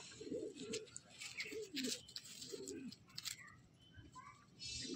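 Chennai-breed pigeons in a breeding loft give several soft, rounded coos spaced through the clip, close and fairly quiet, with faint chirps and a brief hiss near the end.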